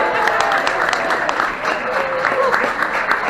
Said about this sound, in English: Big round of applause for Rick.